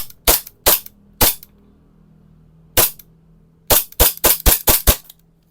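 An airsoft pistol with a metal frame and slide is test fired in sharp snapping shots: three spaced shots, one more after a pause, then a quick burst of about six close together, loud and near with no talk.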